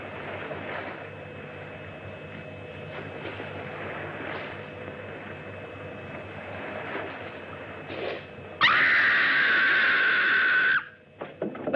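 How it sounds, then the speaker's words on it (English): A woman's loud, sustained scream bursts out for about two seconds after a quieter stretch of steady background sound, then cuts off abruptly. "That was a scream."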